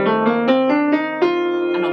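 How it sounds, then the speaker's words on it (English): Piano runs up an F Mixolydian scale, a major scale with a flattened seventh, one clear note after another at a steady pace, sustained tones overlapping, played alone without talk. "the Mixolydian, or the Mixolydian mode, which is the 5th mode, and that has a flat 7."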